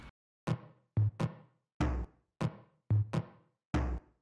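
Seven punchy lo-fi house drum hits in an irregular pattern, warmed and crunched by Bit Warmer and mid-range fattener saturation, each with a short reverb tail.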